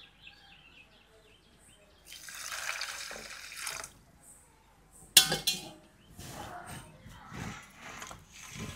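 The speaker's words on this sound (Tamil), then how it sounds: "தண்ணியை ஊற்றிப்போம்." Water splashes and pours into a metal vessel holding jaggery, with clinks of pots and utensils and a sharp clatter midway, recorded close up.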